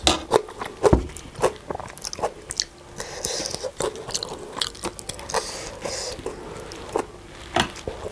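Close, crisp biting and crunching of a crab shell, with sharp cracks and wet chewing repeating irregularly and no talking.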